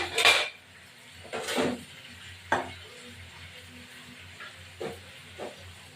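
A pan of snakehead fish head cooked with gourd, stirred in a few separate bursts of loud clattering scrapes with a soft sizzling hiss underneath, then a quieter pause and two fainter knocks near the end.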